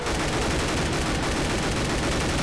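Dense, continuous automatic gunfire rattles without a break as several guns shoot at a tank in the game Left 4 Dead 2, loud and close.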